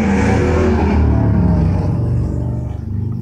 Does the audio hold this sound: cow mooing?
no